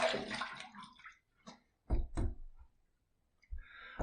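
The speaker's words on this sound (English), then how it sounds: "Let's rinse." Cold water splashes in a sink basin as a face is rinsed, in short separate bursts of splashing and dripping with quiet gaps between them.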